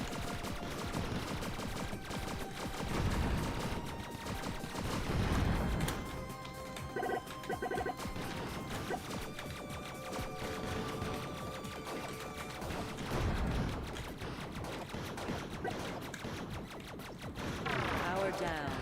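A space shooter video game firing homing missiles, with a dense, continuous barrage of rapid electronic shots and blasts under busy game music, and a voice talking over it now and then.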